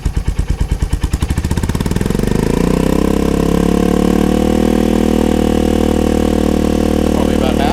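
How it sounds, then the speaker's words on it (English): A Royal Enfield Hunter 350 with a Coffman's shorty slip-on exhaust starts with slow, distinct thumps. It quickly revs up to a loud, steady mid-RPM drone, close by and heard alone. "So we're going to run it up to mid RPM and check our levels"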